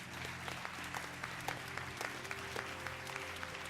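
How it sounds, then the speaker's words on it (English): An audience at a pitch event applauds a presenter from the Tropen Museum as she comes up, a sustained, fairly loud patter of many hands clapping, with a low steady hum running underneath. "give her a round of applause"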